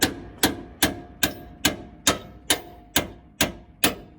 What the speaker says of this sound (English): You just knock it off with a hammer.